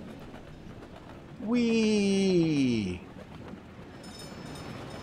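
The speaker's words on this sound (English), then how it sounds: "It's a train." A train in the game Workers & Resources: Soviet Republic gives a loud horn blast lasting over a second over a low rolling rumble, and a voice exclaims briefly.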